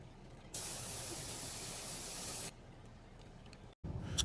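Worn helicopter bearings being cleaned with a spray, a strong steady hiss of about two seconds close by, followed by quieter hissing, a brief silence and a short rough burst at the end.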